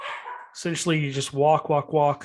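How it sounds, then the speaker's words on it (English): A dog named Tinky barks and yips in short bursts out on a canyon trail, the barks mixed with someone talking nearby. "Sorry for the dog barking in the background."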